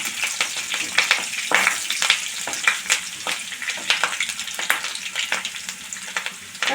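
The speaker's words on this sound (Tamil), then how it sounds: "பச்சை மிளகாய் லோ ஃப்ளேம்லேயே வச்சு கொஞ்சம் நல்லா வதக்கி விடுங்க" Green chillies and a dried red chilli sauté in oil over a low flame for Karaikudi-style mandi, a close, busy crackling sizzle with rhythmic stirring scrapes throughout.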